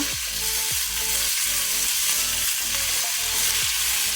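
Ivy gourd pieces fry over low to medium flame, a dense steady sizzle with rhythmic scraping stirs every half second or so, close and fairly loud with no voices.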